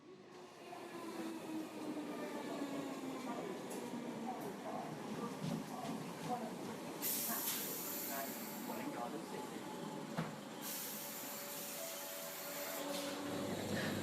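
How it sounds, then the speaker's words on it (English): A train carriage en route to London gives a steady, muffled rolling rumble from inside, with a faint continuous hiss and occasional brief clicks over the quiet drone. "I'm whizzing down on a train to London for work"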